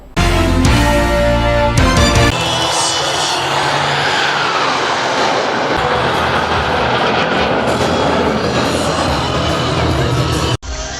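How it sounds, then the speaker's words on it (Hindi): At an Indian Air Force airfest rehearsal in Nagpur, a Surya Kiran aerobatic jet roars loudly overhead in a sustained, broad rushing wash, after brief ringing tones at the start. "सूर्य किरण के सभी 9 विमान शामिल रहे और सारंग टीम के 4 हेलीकॉप्टर आसमान में एक से बढ़कर एक कलाबाजी पेश करते नजर आए।"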